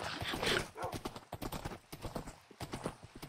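Horse hooves clip-clop in Minecraft, a quick rhythmic patter of hoofbeats close by, with a brief whinny near the start and a faint voice talking underneath.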